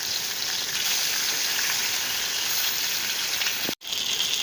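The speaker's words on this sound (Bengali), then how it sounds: "মাছটা আমি একটু ভালো করে ভেজে নিবো" Steady, loud sizzling of red pomfret (rupchanda) fish frying in hot oil in a pan, continuous crackle that briefly cuts out near the end.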